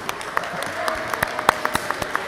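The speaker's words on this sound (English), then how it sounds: "Can we have a round of applause for your parents?" A school awards assembly audience claps for the students' parents, a brief spread of scattered hand claps over a steady background wash, nearby and moderately loud.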